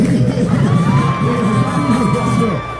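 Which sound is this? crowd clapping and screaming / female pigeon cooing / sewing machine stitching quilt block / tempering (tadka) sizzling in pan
crowd clapping and screaming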